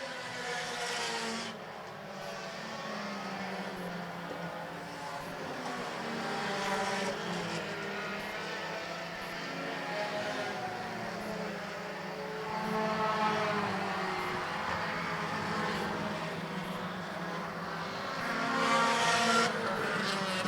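Race cars roaring steadily around an oval concrete track, engines swelling and fading as the field passes, with a sustained loud mechanical drone throughout and no talk.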